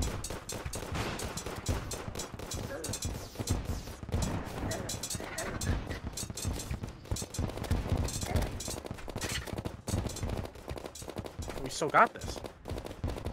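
Rapid gunfire from a gun in the video game Terraria crackles nearly nonstop over dense game music and effects, with people talking throughout.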